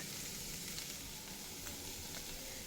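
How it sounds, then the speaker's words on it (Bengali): Chopped kulekhara greens go into spices frying in oil, giving a faint, steady sizzle and hiss with a few soft stirring sounds. "এবার এড করে দেব কেটে রাখা শাক"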